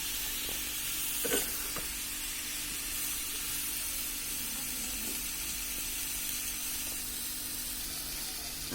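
Tomato, potato and dried fish sauté in a pan, giving a steady low sizzle with a couple of brief scraping stirs near the start, close and fairly quiet throughout.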